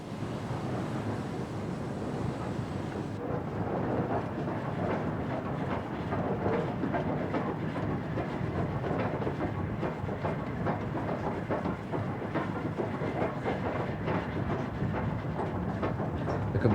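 Two steam locomotives, one a J94 tank engine, push and haul a freight train up a gradient into a yard, heard as a continuous rumbling wash of rolling wagons and wind, with no clear chuffs standing out.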